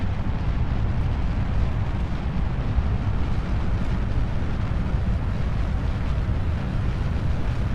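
Rocket engine thrust during launch in the video game Kerbal Space Program: a loud, unbroken low roar with dense rumbling noise, steady and unvarying throughout, no voices.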